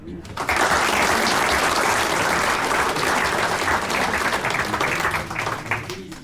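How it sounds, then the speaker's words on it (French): Audience applause at a public town meeting, a loud burst of clapping that starts abruptly, stays full and steady, then begins to thin near the end. "On peut les applaudir."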